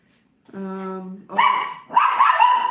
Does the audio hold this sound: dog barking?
yes